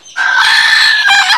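A native village chicken at a Konkan poultry farm gives one loud, close, drawn-out call of just over a second, with a brief break in pitch near the end.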